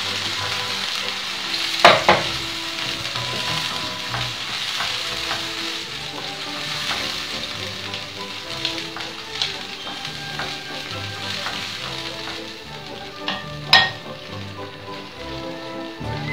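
Tomato sauce sizzles in a pan with fried cod fillets, a steady crackling hiss broken by a couple of sharp clatters of utensil against pan.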